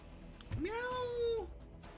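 A person imitates a cat with a single drawn-out meow that rises, then holds steady for nearly a second. It is close and clear over a quiet background.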